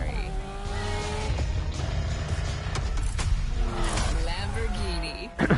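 A Lamborghini's engine roars in the racing video game The Crew Motorfest, a loud, sustained snarl that rises and falls in pitch with brief tire squeal, while a voice talks over it.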